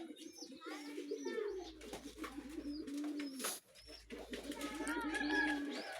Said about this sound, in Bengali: ময়ূরপঙ্খী কবুতর।